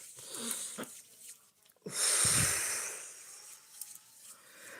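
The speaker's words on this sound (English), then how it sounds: "breathing in with the nose, hold to a count of 4, and release with your mouth" Slow deep breathing heard close, with a soft intake followed by a long, loud, airy exhale that fades away, then quiet. A few faint soft sounds come before the breath.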